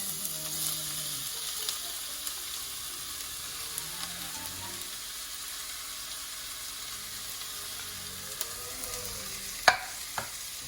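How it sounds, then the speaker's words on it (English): Onions sautéing in a pan give a steady, soft sizzle with faint stirring scrapes throughout, and two sharp utensil knocks near the end. "So first I am going to put my onions into it."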